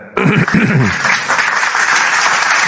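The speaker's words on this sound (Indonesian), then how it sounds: "Tepuk tangan buat Bang Juma" An audience bursts into applause for Bang Juma, a sudden loud clatter of clapping that stays dense and steady, with a raised voice over the start.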